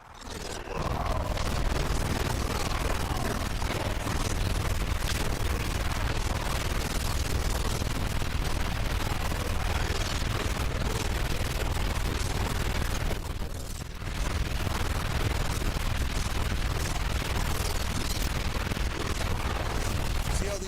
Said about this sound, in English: Explosions that you're hearing, I think that part is where the memory leak is, because you can hear them kind of reverb.